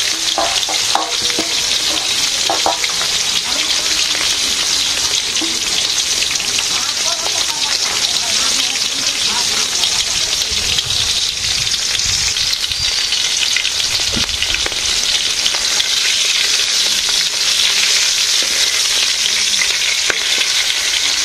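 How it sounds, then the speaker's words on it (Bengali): Fish frying in a pan over a village cooking fire, a loud, dense, steady sizzle running throughout with occasional stirring scrapes. "মাছ ভাজি হয়ে গেছে।"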